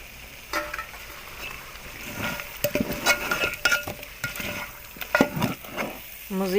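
Beef karahi fries in a pan with sugar and black pepper, a steady sizzle broken by clinks and scrapes of a spoon stirring against the metal.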